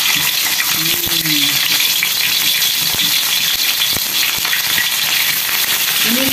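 Fermented river fish pekasam frying in hot oil with shallots, garlic and chili, a loud, dense, continuous sizzle close up with occasional stirring scrapes and clinks.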